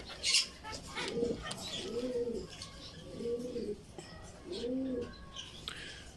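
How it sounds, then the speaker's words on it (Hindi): Black shield cropper pigeons, a breeding pair, give four rounded, repeated coos at a steady pace, close and moderately loud, with faint chirps and a little rustling around them. "ये मेरा ब्लैक शील्ड क्रोपर का पेयर है ब्रीडर पेयर है"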